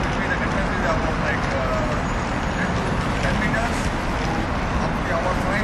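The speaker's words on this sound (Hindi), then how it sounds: "बगल में यहाँ पे एक मेन रोड है," Steady broadband traffic noise from a main road right alongside, a constant loud wash of passing vehicles with no breaks, heard outdoors on a street.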